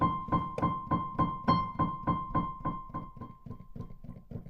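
Evenly spaced notes on a Kurzweil M70 digital piano repeat in a steady pulse, each with a faint percussive click from the keys beneath the tone, gradually softening.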